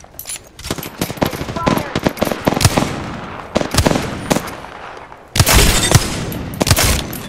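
Dense bursts of automatic gunfire and sharp shots from the video game Apex Legends, loud and near, firing in stuttering volleys with brief gaps and a sudden louder burst near the end.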